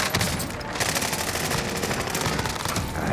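PPSh submachine gun hip-fired at close range in a Warzone Rebirth Island match, roaring in loud, unbroken rapid-fire bursts that fill the whole stretch with no voices over it.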